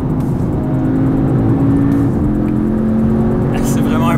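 An Audi TTS Coupé 2019 driven fast on a closed public road, its engine a loud, steady drone with a pitch shift midway as it works through a corner, and someone talking over it.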